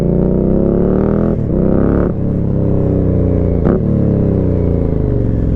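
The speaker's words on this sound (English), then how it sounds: "I went and got the Aprilia because I thought might as well get a different bike to finish off this video." An Aprilia motorcycle under way, its engine droning steadily and loudly up close, with a few brief dips in pitch like gear changes or throttle lifts, no voices.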